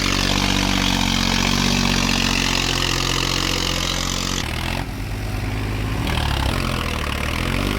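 A tractor sits stuck in a muddy village field, its engine running loud and close in a steady rumbling drone that dips and shifts partway through as the load changes.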